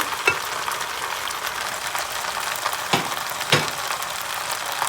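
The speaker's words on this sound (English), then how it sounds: "I'm just going to use a big spoon to mix it all up." Seared oxtails stirred with a big spoon inside a Ninja Foodi pressure cooker, a steady sizzle and hiss with a few soft scraping knocks of the spoon, close and moderately loud, without talk.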